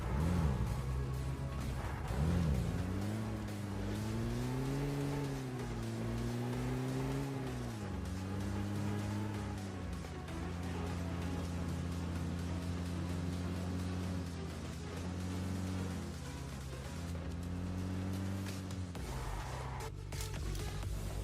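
Vehicle engine in the mobile game PUBG Mobile, a steady droning motor whose pitch rises and falls as the car accelerates and slows, continuous and fairly loud throughout.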